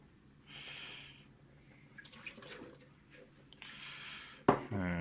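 Deionized water rinsing over a telescope mirror, heard as intermittent trickling and dripping that comes and goes in short bursts, ending with a louder splash and running pour.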